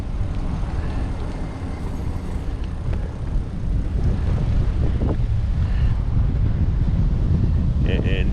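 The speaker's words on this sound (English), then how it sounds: "it's windy here." Steady wind buffeting the microphone on a coastal waterfront in Summerland Key, Florida Keys, a loud low rumble throughout with a brief faint voice underneath.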